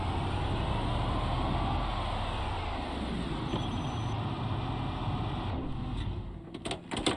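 Car driving along a road in the zombie survival game Project Zomboid, a steady low engine drone and broadband road rumble that holds for several seconds, then thins out with a few faint clicks near the end.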